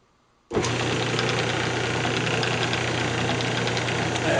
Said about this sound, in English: let's go ahead and put it back on the lathe and see how it's doing